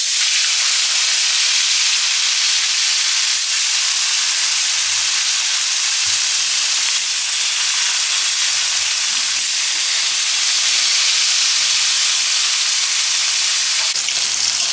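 Bata fish fry in hot mustard oil in a kadai, giving a loud, dense, unbroken sizzling hiss throughout.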